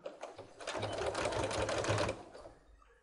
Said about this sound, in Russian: Настрачиваем карман.